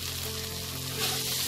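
Taro leaves cooked with a hilsa fish head sizzle in a pan, a brief, steady close frying hiss that cuts off sharply.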